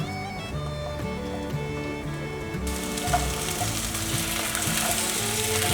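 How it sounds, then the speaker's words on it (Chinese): Taro pieces fry in a lightly oiled flat pan over medium-low heat, giving a steady close sizzle with faint clicks of stirring, alone without voices and growing slightly brighter as it goes. "慢慢的炒，慢慢的煎。"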